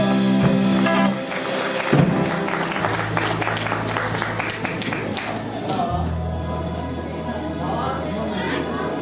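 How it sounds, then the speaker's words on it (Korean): Audience applause at a charity love-sharing concert as a band is introduced, a crowd clapping with chatter, under sustained instrumental tones and some voices throughout. "박수 한번 주시죠"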